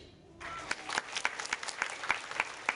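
Show audience in Lebanon clapping in unison, a sharp rhythmic beat of roughly regular claps that starts suddenly and continues steadily, moderately distant.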